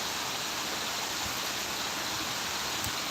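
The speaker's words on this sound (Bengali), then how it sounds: "বৃষ্টি বেড়ে গেছে আল্লাহর রহমত" Heavy rain pours down steadily during a live outdoor stream, a dense continuous hiss with no pauses and no voices.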